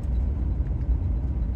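A car cruising slowly and steadily at about 55 mph along an empty Texas road among rolling hills, heard from inside as a constant low engine and road rumble with no talking.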